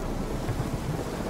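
Stormy weather in The Witcher 3: Wild Hunt, a steady roar of rain and wind with low rumbling thunder underneath, continuous and fairly loud without any voices.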